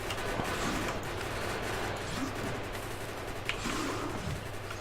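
Rapid, sustained turret gunfire in the factory-building game Factorio, a constant rattling barrage with a couple of sharper impacts, dense and loud throughout with no talk over it.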